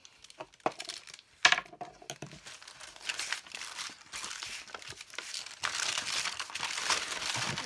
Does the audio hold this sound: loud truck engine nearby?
no